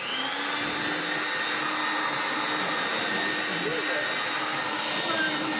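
A vacuum cleaner runs steadily on a rug and carpet, a loud, continuous broadband whine and rush with a faint pitch wobble, holding level with no voices heard.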